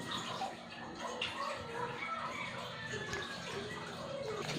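Steady running water as fish are washed for making daing, a continuous close splashing wash that fills the whole stretch.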